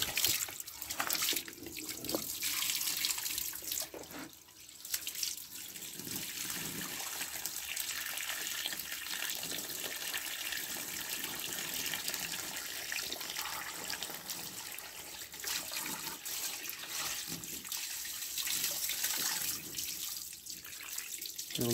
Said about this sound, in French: dès que j'arrose la terre, il y a de l'eau qui descend quelque part